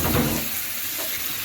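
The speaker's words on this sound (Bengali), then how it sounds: "এখন আমি চিংড়িগুলা দিয়ে দিব" Shrimp sizzle as they drop into frying spice paste in a pan: a steady, soft hiss of hot oil that is loudest at first and then settles, close by with no talking.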